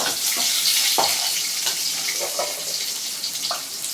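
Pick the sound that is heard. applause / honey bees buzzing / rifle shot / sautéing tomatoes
sautéing tomatoes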